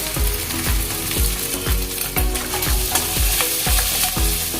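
Green chilli paste frying in a pan with cumin paste, with loud steady sizzling and a regular rhythmic scraping of a spoon, about two strokes per second, close by.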